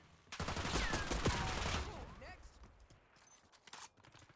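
A KSV gun in a video game fires a dense burst of shots lasting about a second and a half, then trails off into fainter scattered reports and game noise.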